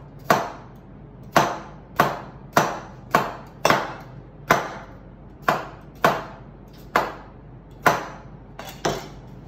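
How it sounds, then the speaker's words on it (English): Knife slicing a radish into very thin slices on a cutting board, about fifteen sharp, close knocks in a steady, slightly uneven rhythm with short gaps between them. "I'm going to slice the radish in very, very thin slices"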